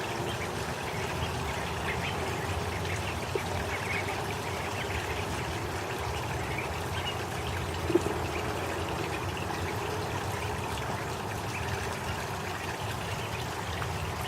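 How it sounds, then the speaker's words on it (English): An indoor water feature in a sunroom set up for ducklings, trickling and pouring steadily at a soft, even level throughout, with one brief tap partway through. "Cute water feature for the ducklings."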